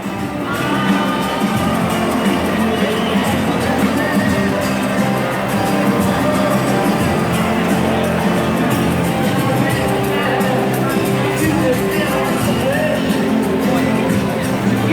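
Crowd at a Donald Trump rally in Austin cheering and chattering, a dense continuous roar of voices with loose shouts, loud and sustained throughout with no clear single speaker.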